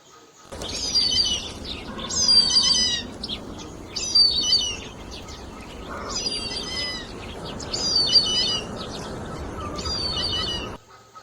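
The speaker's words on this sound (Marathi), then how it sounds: "हा धनेश पक्षी." A hornbill calls repeatedly in short, bright bursts at a fairly regular pace, moderately close, over a low outdoor background with no speech.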